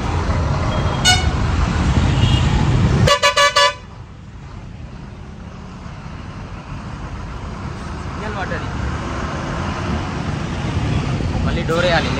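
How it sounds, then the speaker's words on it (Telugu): A lorry sits in a full traffic jam while car horns sound nearby: a short toot, then a loud, rapid burst of honks. Low engine and road rumble follows, with another faint honk near the end. "ఇప్పుడు మనకి ట్రాఫిక్ అయితే ఫుల్ ట్రాఫిక్ జామ్ అయిపోయింది"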